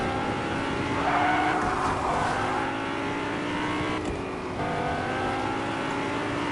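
A Whiplash sports car drives in Fortnite, a steady loud engine drone with rising revs and tire squeal, continuous and close throughout with no talking.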